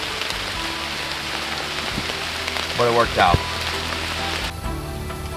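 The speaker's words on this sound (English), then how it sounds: "Pouring rain" Steady heavy rain hisses throughout, with a voice briefly speaking partway through over the downpour, outdoors while bowhunting deer in New York.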